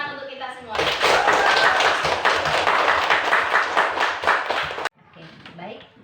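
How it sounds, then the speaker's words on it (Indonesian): A group claps together at a teachers' academic supervision and coaching meeting, a dense burst lasting about four seconds that ends abruptly, with voices talking through it. "Tepuk tangan untuk kita semua."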